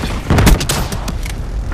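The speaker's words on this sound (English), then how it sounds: "Rocket launcher." Rocket launcher shot in Black Ops 3 free-for-all multiplayer, a loud whoosh and booming burst near the start, followed by scattered softer cracks and rumble trailing off over a short span.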